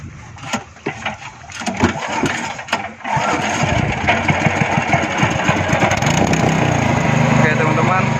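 A new speedboat engine running out at sea, a steady loud motor drone that builds after a few seconds and holds continuously, with people talking and calling out over it.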